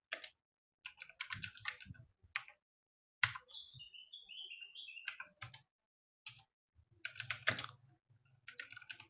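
Someone types on a computer keyboard in quick bursts of close, crisp key clicks with pauses between, and a bird chirps briefly in the background.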